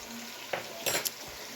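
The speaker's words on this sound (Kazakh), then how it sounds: "Өстіп қызған майға етімізді салып, күштіп қуырып аламыз" Meat fries in hot oil for plov with a low, steady sizzle and a few short scraping stirs against the pan.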